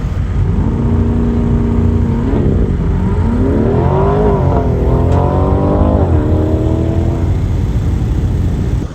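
Corvettes running an autocross course at Spring Mountain, a loud, near engine snarl rising and falling in pitch as the car accelerates through gears and lifts between corners, continuous for about nine seconds.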